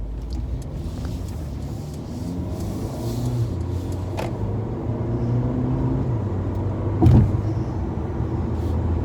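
Steady engine hum and road rumble from inside a moving 2022 Mercedes-Benz A220, constant and fairly loud, with one brief thump partway through; no voices.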